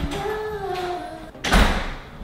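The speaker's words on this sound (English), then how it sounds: "The front door just shut." A front door shuts inside a house: a faint creak-like tone fades, then a firm thud of the door closing lands near the end.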